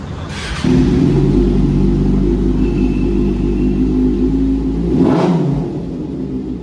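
A Kawasaki superbike engine fires up and settles into a loud, steady idle close by, with a brief throttle blip near the end before easing back down.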